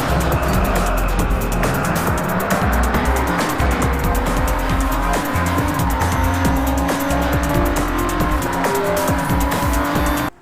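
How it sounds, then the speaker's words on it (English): Lamborghini engines roar continuously in a 2002 Xbox racing game beta, loud and dense throughout, with tire squeals and skidding layered over the revving as cars battle on track. "All the cars sound powerful and have a nice beefy Lambo sound to them."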